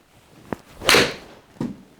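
A TaylorMade Stealth HD golf iron strikes a ball, making a single sharp swishing impact near the middle, with a couple of softer clicks before and after.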